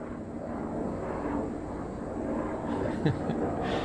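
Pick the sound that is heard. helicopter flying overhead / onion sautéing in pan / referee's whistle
helicopter flying overhead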